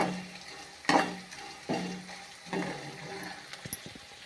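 Ridge gourd stir-fry cooking in oil with onion and green chili, a low sizzle running throughout, broken by several louder scraping stirs of a spatula and a few small clinks near the end.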